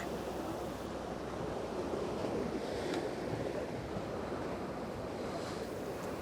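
Ocean surf at a rocky fishing spot where anglers target blackfin rockfish, a steady broadband wash of breaking waves with wind rushing across the microphone, loud and continuous with no talk.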